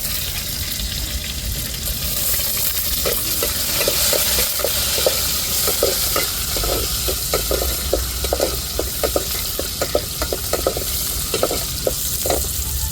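Crushed garlic frying in a pan for onion kuzhambu gives a loud, continuous sizzle, broken by repeated scraping stirs in an irregular rhythm.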